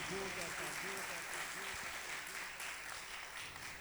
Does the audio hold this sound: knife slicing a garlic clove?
no